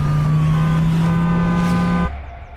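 A police vehicle in an animated cartoon turns and drives off, its steady engine hum loud and close with a faint siren-like tone above it, cutting off abruptly near the end.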